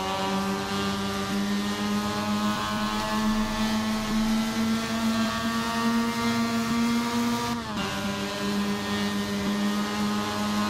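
Formula Mazda race car engine in Assetto Corsa at Autopolis, a steady high-revving drone held at near-constant pitch, then a brief upshift dip before the note climbs again, loud and continuous with no talk.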